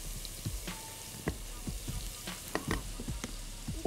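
Onions and carrots sizzle in a hot pan with crackling pops and spits over a steady frying hiss, close and at a moderate level with no voices.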